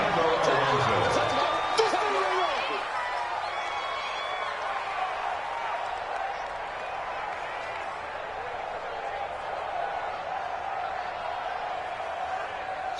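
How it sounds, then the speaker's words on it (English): A loud, sustained roar from the stadium crowd in a domed venue in a PS4 American football game, rising with a burst of cheering at the start and then holding as a steady wash. "The crowd here in the Dome making things difficult."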